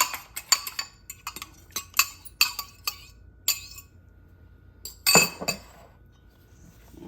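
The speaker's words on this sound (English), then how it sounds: "I've already cracked the eggs, and we're just gonna beat them up." Eggs beaten lightly in a bowl with a utensil, producing quick irregular clinks and taps against the bowl, a brief dense flurry near the end, then quiet; no talking.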